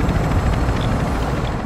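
A video game helicopter's rotor thrums steadily with a dull, continuous low chop, mid-distance and unbroken, with no talk over it.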